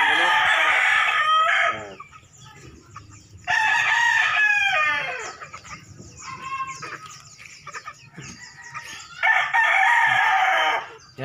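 Backyard chickens, free-ranging hens and pullets, cluck close by while a rooster crows in loud bursts, several calls in a row separated by quieter farmyard gaps.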